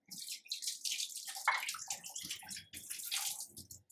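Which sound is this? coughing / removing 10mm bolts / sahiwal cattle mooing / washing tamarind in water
washing tamarind in water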